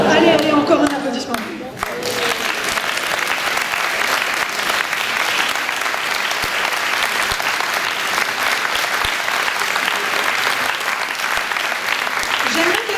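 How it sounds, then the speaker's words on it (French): A concert audience applauds after a choir performance with sustained, dense clapping that fills the hall. Voices can be heard at the start before the applause takes over. "Allez, allez, encore un applaudissement."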